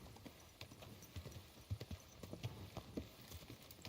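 Horse hooves clip-clopping in the medieval video game Kingdom Come Deliverance II, a steady run of soft, fairly close hoof thuds at a walking pace over a quiet background.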